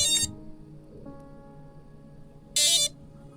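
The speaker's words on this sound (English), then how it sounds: "Should get the flight controller beeps now." A freshly built FPV drone's flight controller gives short, loud, high electronic beeps, one burst at the start and another near the end, with a faint steady tone in between and no speech.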